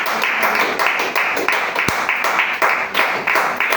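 A church congregation claps for the Lord during a morning service, a dense, loud and steady wash of rhythmic applause filling the room with no one speaking.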